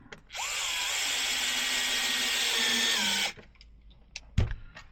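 Power driver tightening a screw on a Traxxas Slash late model body, whirring steadily and close for about three seconds before cutting off, followed by faint handling clicks and a knock.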